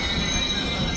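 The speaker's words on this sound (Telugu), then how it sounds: "ఖమ్మం రైల్వే స్టేషన్ చాలా బాగుంది" A train at Khammam railway station gives off a steady metallic squeal over a low rumble, close and continuous for the whole moment.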